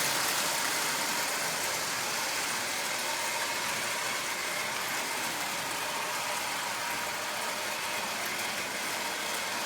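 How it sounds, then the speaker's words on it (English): A toy locomotive built from a Lionel 8902 shell and a Marx single reduction motor runs with a constant, even whirring drone, loud and close, with no voices. "a Lionel 82 or 8902 shell and a Marx single reduction motor. And you put them together and it gives you a running locomotive, as you see."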